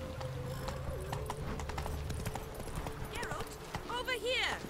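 Roach the horse walks in The Witcher 3, hooves clip-clopping in an even rhythm, with short voiced exchanges, a faint neigh and game music over the steps.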